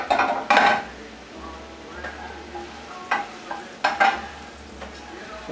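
Minced shallot sizzles in a frying pan on a kitchen stove, a low steady fry punctuated by several sharp metallic stirring clinks and scrapes.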